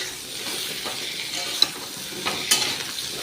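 Slit green chillies hit hot oil with ginger in a pan, giving a soft steady sizzle broken by a few sharp utensil clinks and stirring scrapes.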